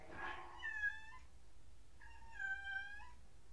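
A cat in The Legend of Zelda: Breath of the Wild lifting its head and meowing twice, two drawn-out tonal mews a second apart, clear and close against a quiet background.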